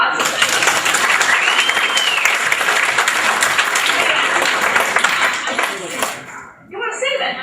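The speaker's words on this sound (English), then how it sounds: "Let's give a round of applause." A conference audience gives a round of applause, dense clapping from many hands filling the room at a steady level before fading out near the end as voices begin to speak.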